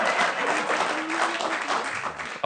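A live audience breaks into sustained applause, many hands clapping in a thick continuous roar with a few faint voices mixed in, ending on a sharp final clap.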